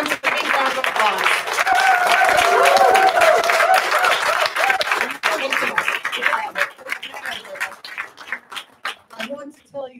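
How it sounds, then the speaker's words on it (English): Audience applause at a filk convention's closing ceremonies, dense and sustained clapping from a crowd that thins into scattered claps and a few chuckles toward the end. "I think Judith deserves a big round of applause"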